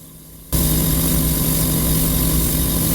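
Mr Hobby Mirror Silver spray paint hissing from a can in a light coat, a loud, steady, close spray that starts abruptly after a brief quiet moment and runs on unbroken.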